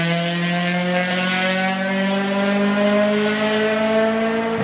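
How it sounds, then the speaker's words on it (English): A 2007 Honda Civic Si engine holds a loud, sustained high-rpm wail with a strong tonal buzz that climbs slightly in pitch, heard up close with no talking over it. "Not sure if you guys heard the VTEC, but that was Isaiah with his new 2007 SI."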